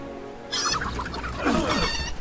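Chicken clucking in the fantasy strategy game Age of Wonders III, two short bursts of squawky fowl calls close up with a steady low game backdrop.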